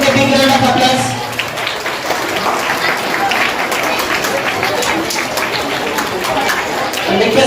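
Sustained audience applause at a school National Mathematics Day Rubik's Cube game, steady dense clapping filling the room for several seconds with crowd noise mixed in.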